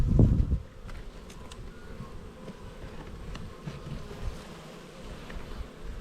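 Honey bees swarm and drone around an open backyard hive during a late-season inspection, a steady close insect hum with brief louder buzzes near the start.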